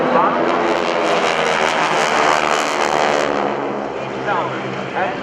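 GEICO Skytypers vintage propeller planes at an airshow starting, rolling together and taking off, a loud sustained droning roar of several engines, with a voice talking over it.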